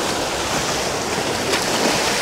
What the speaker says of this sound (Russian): Берег разбивают волны.